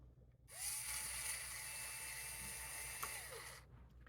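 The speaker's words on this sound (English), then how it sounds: "So I'm going to unscrew the bridge pickup." A small electric screwdriver whirs steadily for about three seconds while unscrewing the bridge pickup on a cheap Telecaster electric guitar, a thin high motor whine, close and alone.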